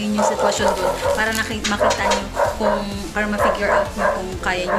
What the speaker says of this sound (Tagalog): Sorry sa ingay ng aso namin.